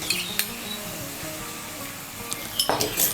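Turmeric powder and a splash of water hitting hot oil in a pan, a soft sizzle under light clinks of a spoon against the pan, with a sharper burst of sizzling near the end.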